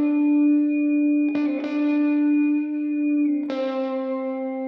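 Sustained tone enriched by a pitch-tracking plugin that synthesizes extra harmonics, a steady buzzy held note with two sharp plucked re-attacks adding bright upper overtones, close with no talk.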